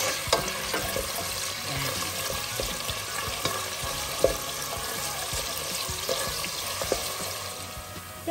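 Onion fries in oil in a pan or pot for spaghetti carbonara, a continuous close sizzle with scattered pops and clicks of stirring, alone with no voices.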